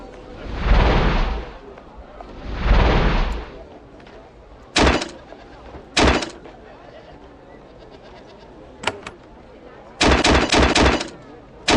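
Explosions from the video game Geneforge 1: Mutagen, a series of sharp broadband bursts, several single blasts and a quick cluster near the end, standing out over a steady game soundtrack with two longer swelling rumbles at the start.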